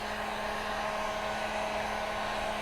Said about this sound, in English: heat the molding blank for about 45 seconds, being careful not to overheat.